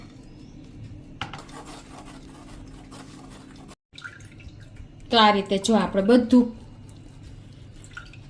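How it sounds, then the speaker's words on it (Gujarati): Spicy mint pani puri water is strained through a large sieve in a kitchen, with a burst of liquid pouring and splashing near the middle, soft clinks of utensils, and a person talking before it. "તો હવે આ પાણીને આપણે આ રીતે મોટા ગયણામાં ગાળી લેશું"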